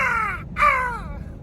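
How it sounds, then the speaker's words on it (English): Crows in a large roadside colony in Ukraine give two loud harsh caws in quick succession, close and clear over a low rumble of wind or traffic. "Have you ever seen so many fucking crows in your life?"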